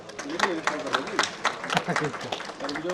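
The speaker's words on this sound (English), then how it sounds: "Can you please have a round of applause?" Applause from a conference audience at a higher education session in India, a dense patter of many hands clapping steadily for about three seconds with some voices mixed in.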